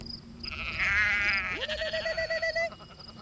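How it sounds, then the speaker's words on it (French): Icelandic sheep bleat in a pasture, one long wavering bleat followed by another with a pulsing, stuttered tail, fairly close and clear over quiet background. "Les moutons islandais sont de toutes les couleurs et vivent au pâturage."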